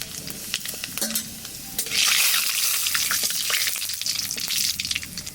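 Panch phoron, dried red chillies and bay leaves sizzling in hot oil for a pumpkin curry, the frying swelling into a loud steady hiss partway through with stirring clatter over it.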